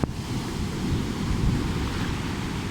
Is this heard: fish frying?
no